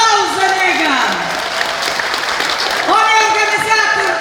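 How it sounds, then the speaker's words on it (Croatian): An audience at a live folk music concert bursts into sustained clapping, loud and dense, while a singer's amplified voice carries over the applause at the start and end. "Ajmo jedan aplauz za njega!"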